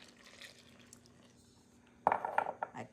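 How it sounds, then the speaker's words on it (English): Water poured into a bowl of pizza dough mixture: a quiet stretch, then a short, close splashing pour with light clinks near the end. "Now we add our water."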